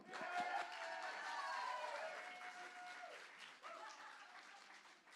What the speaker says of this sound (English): So maybe you put a little extra love and energy into your applause.